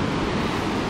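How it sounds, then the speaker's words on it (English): Ocean waves and surf at the Southwest Jetty, a dense, constant roar of breaking water mixed with wind buffeting, loud and unbroken. "there's the ocean"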